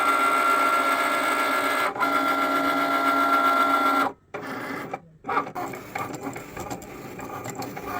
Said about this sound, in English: I'm just going to be printing this out on my printable vinyl